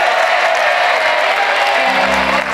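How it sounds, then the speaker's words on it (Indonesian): Loud, steady studio audience applause on the Indonesian TV game show Family 100, a continuous dense roar of clapping with a sustained tone running through it and music entering near the end. "Tepuk tangan dong untuk pencapaiannya."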